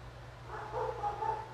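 A dog barks faintly in the background of a podcast recording, giving a few soft yips close together in an otherwise quiet room.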